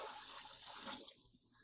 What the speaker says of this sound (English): go ahead and pour in the water